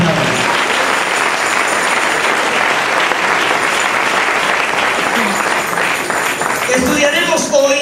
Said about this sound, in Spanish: Den un aplauso fuerte al Señor en esta hora.